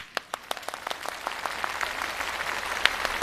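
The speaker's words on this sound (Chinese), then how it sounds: "有工作的鼓鼓掌" A live comedy show audience claps, with sharp separate claps at first that thicken into a steady patter of applause, moderately close and fairly loud.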